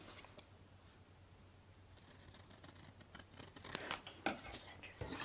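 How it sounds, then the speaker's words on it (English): Scissors snipping through thin paper for model railway pavement, a run of quiet, short crisp cuts and crinkles over a faint steady hum, growing busier toward the end. "I'm quite happy using scissors."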